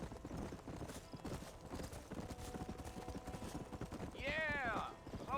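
Horse hooves clip-clop at a trot in the Red Dead Redemption video game, a rapid steady rhythm under game music, with a brief whinny near the end.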